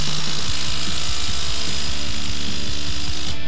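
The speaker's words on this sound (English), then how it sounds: "I'm going to tighten this bolt into this nut in the impact mode." A Rockwell 3rill 3-in-1 18-volt cordless impact driver, set to impact mode, drives a bolt into a nut: a loud, continuous rapid hammering rattle runs almost the whole time and cuts off at the end.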